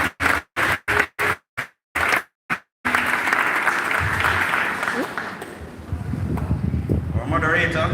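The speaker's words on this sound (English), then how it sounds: "Give them another round of applause." Audience applause at a high school graduation, clapping heard in choppy bursts at first, then a steady, full round of crowd applause that carries on, with voices rising toward the end.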